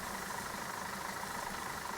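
A tractor engine idles steadily in the Farming Simulator game, a constant mid-range drone with a faint knocking texture, alone and unbroken with no voices.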